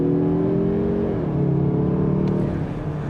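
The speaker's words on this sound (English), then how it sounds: "let's go ahead and see what we can do 0 to 60 wise" A 2024 Mazda3 turbocharged AWD hatchback pulls hard from a standstill in sport mode, engine note climbing loudly and steadily, briefly dipping at a gear change, then rising again from inside the cabin.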